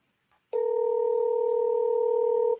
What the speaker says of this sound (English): I'm gonna see if I can get her on the phone right now